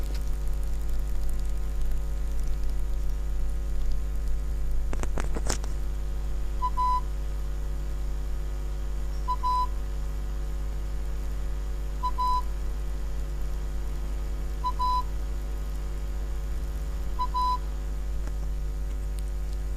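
Morse code for the letter A, a short dot tone followed by a longer dash tone, repeated about five times at regular intervals over a steady low hum, with a brief knock near the start.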